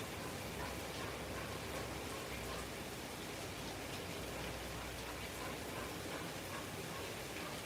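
Rain falling in Los Angeles makes a steady, dense hiss of drops that holds at an even level throughout, with no voices over it.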